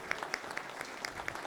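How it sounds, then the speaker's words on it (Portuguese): Brief, faint applause from a meeting audience greeting their manager at an institutional cooperation panel, a few scattered claps with sharp regular peaks rather than a full ovation, heard alone without talk. "uma salva de palmas"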